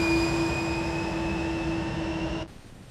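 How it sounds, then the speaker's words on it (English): A jet airliner rolls slowly along the runway at Seattle-Tacoma Airport after landing, its engines giving a steady, prominent high whine over a low rumble that drops away sharply near the end. "The aircraft rolled slowly across the runway."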